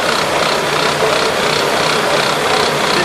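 A junkyard car engine idling roughly before treatment, with steady loud mechanical clatter and vibration, a continuous close-up drone without pauses.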